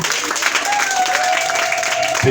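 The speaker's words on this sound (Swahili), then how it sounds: "Pigie Yesu makofi mazuri." A church congregation claps for Jesus, a dense wash of applause that runs steady and fairly loud, with a voice and a tone held over it.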